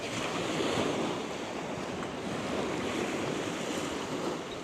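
Waves break and wash on a beach at Minster on the Isle of Sheppey, a steady roar of surf mixed with wind buffeting the microphone, with no voices.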